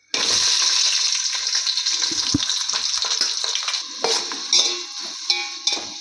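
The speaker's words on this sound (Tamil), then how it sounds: "எண்ணெய் காஞ்சிச்சு பொறிஞ்சிச்சு போட்ட பொருளெல்லாம் நம்ம இது வெங்காயம் சேர்த்துக்கலாம்" Onions tipped into hot oil with spluttering spices for seeraga samba chicken biryani, giving a loud, continuous close sizzle with scattered crackles and a few metallic clinks toward the end.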